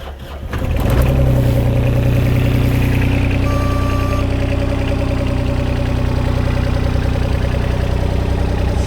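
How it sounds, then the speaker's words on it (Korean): A 2-ton mini excavator's diesel engine cranks over and catches, then settles into a steady, loud, close idle with a low rumbling drone that holds to the end. "시동 걸었을 때 엔진 시동음도 나쁘지 않은 편입니다"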